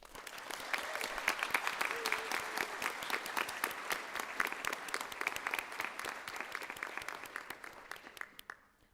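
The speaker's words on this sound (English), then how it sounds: "please join me once again in applauding for all our new National Honor Society" Sustained applause from an audience honoring new National Honor Society members at a 2025 induction ceremony: dense, steady clapping lasting several seconds before fading out at the end, with no voices over it.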